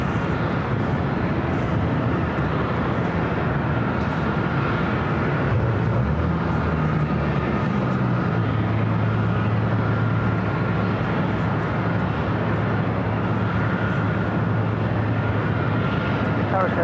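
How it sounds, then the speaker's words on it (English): A Southwest Airlines Boeing 737 takes off from runway 24 left at LAX, a steady, loud jet engine roar building over the whole stretch with a rising tone midway, while a voice talks over it. "Next takeoff here on the north side at 24 left."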